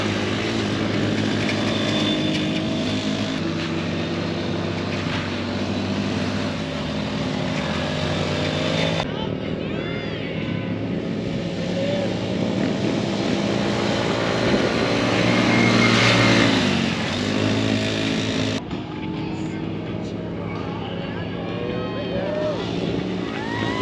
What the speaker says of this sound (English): now we've got the 12 and under youth four-wheeler